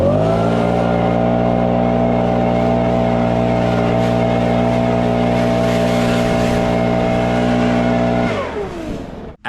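A blower runs steadily and loud while clearing clumps of mulched tall grass, its droning motor holding a constant pitch before winding down and cutting off near the end.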